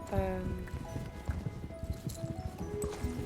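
Pony hooves clip-clopping in the Star Stable Online video game, a quick run of soft, irregular hoof knocks under someone talking, with faint game music tones behind.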